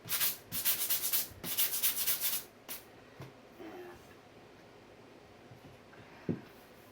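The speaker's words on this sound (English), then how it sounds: "I'm just going to use some 220 grit sandpaper and just kind of stress it a little bit" Fine 220 grit sandpaper rubs over a piece of thrift-store furniture in a few quick, close strokes, then stops and leaves only faint scattered touches.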